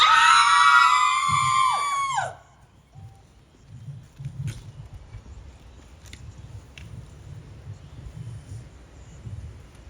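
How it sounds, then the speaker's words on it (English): At a street protest, a loud, high, drawn-out scream rings out for about two seconds, then breaks off into a quieter background of shuffling crowd and footsteps. "Did you hear the scream?"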